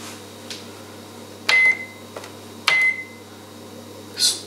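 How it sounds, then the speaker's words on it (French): A microwave oven being set to full power gives several short, clear electronic beeps at irregular intervals over a faint steady hum, with small clicks and a brief clatter at the end, no talking. "Le micro-ondes."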